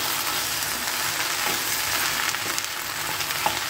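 Sliced okra for a palya side dish fries in a pan, releasing its slime with a loud, continuous sizzle and occasional soft stirring scrapes, close by and without voices.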